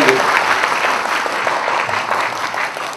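Loud, sustained applause fills a hall at a Congress workers' meet in Vashi, with dense clapping at a steady level throughout and some crowd voices underneath.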